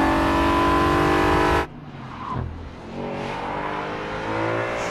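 An Audi RS5 Cabriolet engine roars loudly at high revs, then cuts off abruptly and settles into a lower, rumbling idle with small throttle blips.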